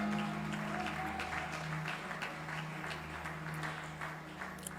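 A church congregation applauds during a sermon, a steady wash of many hands clapping at moderate distance over sustained keyboard tones, with no speech over it.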